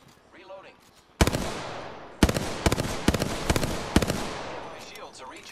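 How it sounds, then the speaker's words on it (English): Enemy gunfire in Apex Legends: sharp, loud shot bursts strike in several clusters after a quiet start, each followed by ringing decay, with faint game voices at the edges. "The enemies are shooting at me."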